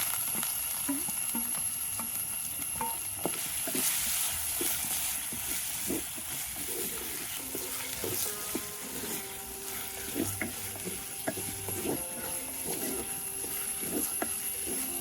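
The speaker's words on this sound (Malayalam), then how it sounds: "ഇഞ്ചി ഒന്ന് നന്നായി മൂത്ത് വരട്ടെ. അതുവരെ നമുക്ക്" Ginger sizzles in hot oil with mustard seeds, fenugreek and chilli in a pan for Kerala inji puli, with a steady crackling hiss broken by repeated scraping stirs and clicks from the spoon, close and continuous, with no talk.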